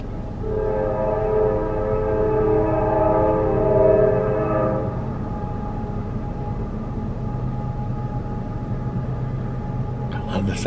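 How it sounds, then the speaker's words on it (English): A train rumbles past with a sustained droning horn for several seconds, then the steady rolling noise continues; a brief clatter near the end. "Do you hear the train?"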